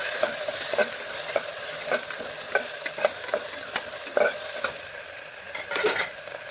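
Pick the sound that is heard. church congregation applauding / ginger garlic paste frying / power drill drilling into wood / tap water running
ginger garlic paste frying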